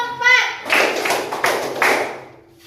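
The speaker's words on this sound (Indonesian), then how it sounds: "Tepuk 4." Elementary school children in a classroom clap together on a teacher's instruction, a short burst after a brief spoken cue, with several rhythmic loud clapping surges close by.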